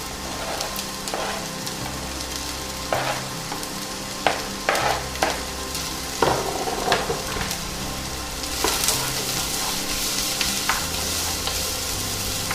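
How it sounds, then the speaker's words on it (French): Small pieces of onion frying in olive oil in a pan on an induction hob, giving a steady close sizzle broken by occasional stirring scrapes and clatters. "je vais commencer par faire revenir mes petits morceaux d'oignon"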